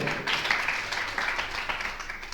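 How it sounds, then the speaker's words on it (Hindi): Audience clapping at a devotional gathering with a Jain monk, a moderate, continuous wash of many hands applauding, even and somewhat muffled, with no voices over it. "जोरदार तालियां बजाएं"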